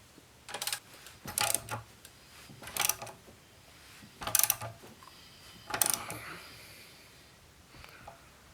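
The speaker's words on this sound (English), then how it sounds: "So now I'm going to turn the crankshaft 180 degrees, which then is going to turn the camshafts 90 degrees." A ratchet turns the crankshaft of a Honda B20 non-VTEC engine during valve clearance adjustment. It gives several separate bursts of clicking and metallic turning, spaced about a second apart, with quiet pauses between them.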